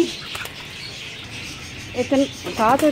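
Caged pigeons flutter and call nearby, soft wingbeats and short chirps over a hum of background noise, with a brief voice near the end.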